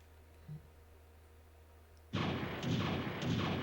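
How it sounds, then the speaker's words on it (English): Enemy explosions in the PS2 game Gundam: Journey to Jaburo burst in as a sudden loud blast after a quiet stretch, followed by a couple of further booming hits in quick succession. "when you destroy enemies, their explosions can hurt you."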